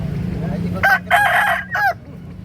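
A Bangkok-breed rooster crows at Pasar Daya market in Makassar. One fairly close, broken crow of about a second rises over a low background hum and market murmur.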